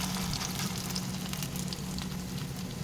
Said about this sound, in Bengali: এটা তো পুরো মিডিয়াম টু লোতে রেখে ভাজছি